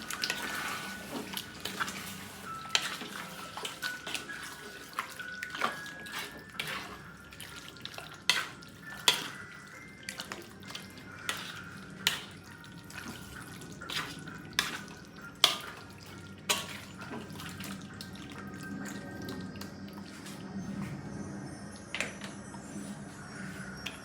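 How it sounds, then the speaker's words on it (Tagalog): Menudo being stirred in a frying pan to keep it from sticking, with repeated scraping and clinking of the utensil against the pan over a steady sizzle and bubbling, sharp knocks recurring through the stretch with no talk. "kaya hahaluin muna natin ito para hindi manikit sa ilalim"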